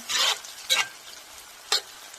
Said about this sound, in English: Start building this up more. Just frying it nicely.